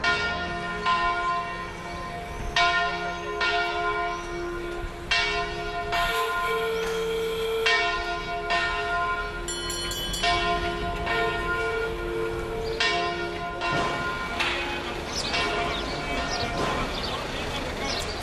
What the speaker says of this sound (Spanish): al ritmo de las campanas de su catedral gótica